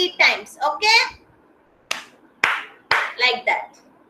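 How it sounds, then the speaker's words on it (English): Young kindergarten children clap three times in a row, sharp close claps spaced about half a second apart, following a teacher's speech in a quiet classroom. "When I say three, you're going to clap three times."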